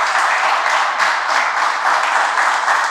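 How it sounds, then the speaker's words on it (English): Studio audience applauding for a new talk-show episode, a steady, full wash of clapping heard close and loud throughout without speech. "A round of applause for our new episode."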